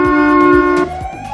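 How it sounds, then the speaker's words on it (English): An ambulance siren sounds loudly and alone in a steady wailing tone, which drops in pitch partway through. "Ambulance."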